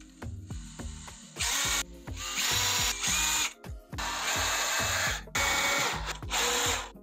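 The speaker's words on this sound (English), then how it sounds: "We screw it. We just got to do some pilot holes." A power drill boring pilot holes in PVC trim while a screen door is installed, in repeated loud whirring bursts broken by brief pauses and clicks, with no talking.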